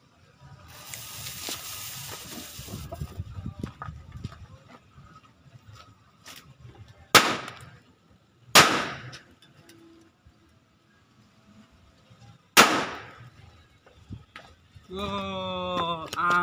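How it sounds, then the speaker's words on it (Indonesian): Lombok firecrackers go off outdoors: a hissing, crackling stretch gives way to three sharp, loud bangs spaced a few seconds apart, and a voice speaks near the end. "kita lanjutkan guys petasan yang ketiga guys"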